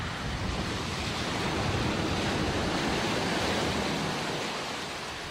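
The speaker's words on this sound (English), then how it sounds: "So this is shallow wading with a Discovery." A Land Rover Discovery shallow wading through water on an off-road course, giving a steady loud rush and wash of water with no voices.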